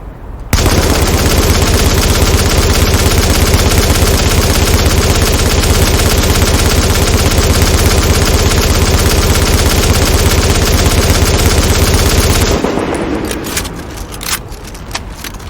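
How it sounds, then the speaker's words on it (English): A light machine gun fires a long, continuous sustained burst in The Division video game, loud and dense for about twelve seconds before stopping abruptly, followed by scattered clicks and clatter. "That's what the light machine gun does."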